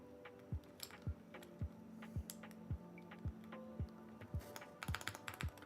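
Mechanical key presses on a Corsair MAKR 75 keyboard during a build, about a dozen sharp clacks at a steady typing rhythm, close and clear with no talk.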